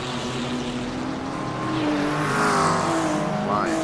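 A BMW GT3 race car in iRacing at Mount Panorama, its engine droning steadily and rising in pitch as it accelerates downhill, a loud continuous in-car roar.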